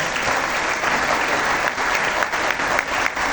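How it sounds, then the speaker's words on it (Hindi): A large audience applauds tabla player Shabaz Hussain at an award event, a dense, steady wash of clapping that holds loud and even throughout. "ये ताली बहुत कम है इनके लिए"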